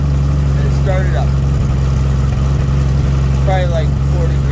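A Dodge D100 truck engine idles steadily after a cold start, a deep, even rumble close by with a faint rhythmic chug and no revving.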